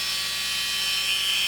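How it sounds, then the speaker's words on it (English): A Dremel rotary tool runs with a thin, steady high-pitched whir and faint hum, close by and unbroken for the short moment. "you want to run the Dremel tool on slow speed"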